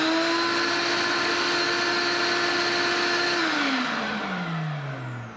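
A workshop vacuum runs steady and loud with a strong whine, then winds down with a falling pitch as it slows near the end.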